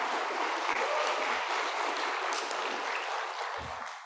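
Audience applause at a youth summit opening ceremony in Indonesia, a steady, dense wash of clapping filling the hall for the whole stretch and tapering slightly toward the end.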